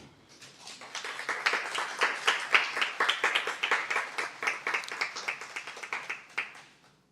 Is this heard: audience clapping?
yes